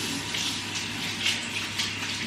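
A bathroom sink tap runs steadily as hands are wetted under the stream, a close, even gush of water with small splashy shifts and no talk.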